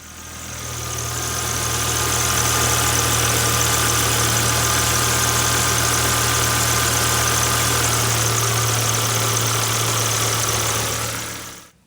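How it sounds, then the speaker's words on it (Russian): Volvo S60 or S80 engine idling steadily with a continuous low hum and an even mechanical whir, a faint accessory bearing whistle barely perceptible on top, recorded close with no talking. "есть еле-еле заметное подсвистывание подшипника"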